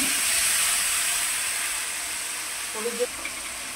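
Water poured onto spice paste in a hot pan with green chillies, giving a steady broad hiss and sizzle that slowly fades, with a few small pops near the end and no voices.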